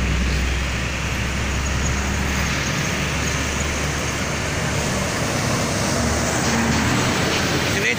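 A dense, steady roar of heavy holiday-exodus traffic on the Pantura route at night, motorcycles and cars packed together, with continuous engine and tyre noise and a voice speaking over it.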